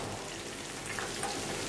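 Cauliflower florets frying in hot oil in a kadhai for Gobi Manchurian, a dense, steady sizzle and crackle that fills the short stretch evenly at close range, with no voices.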